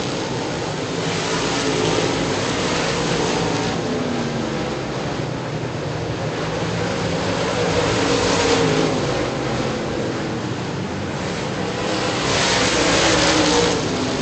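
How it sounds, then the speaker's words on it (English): Late model race cars roar down the front stretch into turn one, a continuous loud engine drone that swells and fades in waves as the cars pass, with no talk. "Making his way down the front stretch into turn number 1."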